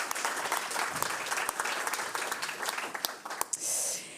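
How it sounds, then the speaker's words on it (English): An audience at an Afrikadag conference applauds a speaker in a steady round of clapping, with a few sharper individual claps standing out, before it fades near the end. "can I get one more applause for Marit?"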